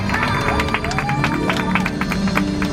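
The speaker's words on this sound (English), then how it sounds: "I also want to give a big round of applause to our driver David for driving us around the lot today" An audience applauds the driver at the end of a Universal Studios Hollywood backlot tour, with dense, steady clapping and crowd murmur filling the whole stretch at close range.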